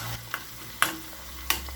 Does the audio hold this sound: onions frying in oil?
yes